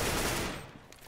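Gunfire in a competitive shooter video game match, a loud rapid burst of shots up front that fades quickly into quieter scattered noise.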